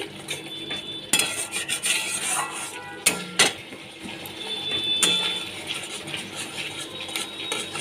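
A spice mix of salt, sugar and ground cumin is stirred and sautéed in a pan for a potato and prawn curry: constant close scraping and clinking of a metal spoon against the pan, with a few sharper knocks and a soft sizzle, no speech.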